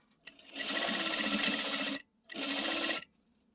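A sewing machine sews down fabric near a zipper in two bursts of rapid stitching, a long run then a shorter one, with a brief pause between, close and clear.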